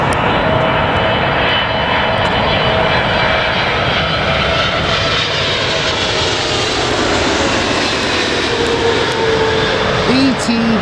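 A Jet Airways Boeing 747 roars at Heathrow at sunrise, its loud, steady engine rumble filling the air throughout, with people talking over it.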